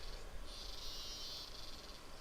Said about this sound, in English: Oh my god, the cicadas.